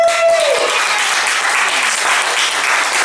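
Applause and cheering from an audience voting for a song at a live original-music show, a dense steady burst of clapping, loud and even across the whole stretch, with a brief whoop early on.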